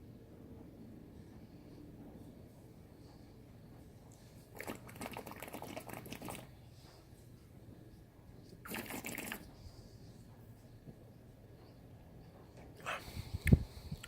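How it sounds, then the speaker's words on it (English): A mouthful of bottled double IPA slurped with air drawn through it: two separate hissy, bubbling bursts of a couple of seconds each, close to the mic over quiet room noise, then a short louder rustle at the end. "you take a mouthful, you put your head down like that, and then suck up"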